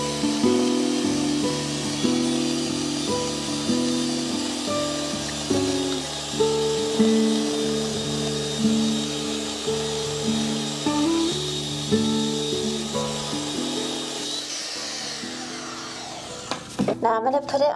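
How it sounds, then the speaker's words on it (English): A motorized mixer mixing casting investment for lost wax jewelry casting whirs steadily with a rhythmic pulsing hum, close by, ending with some clattering near the end. "I'm going to use my mixer to mix this up"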